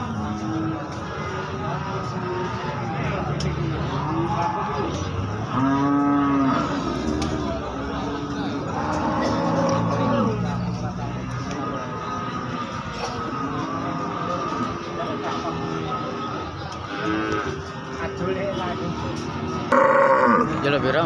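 Pegon breeding cows moo several times at irregular intervals, deep drawn-out calls rising over a busy background of muffled murmur and movement at a cattle market in Jaken.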